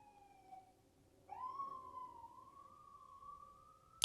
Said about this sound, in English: Y'all hear them sirens?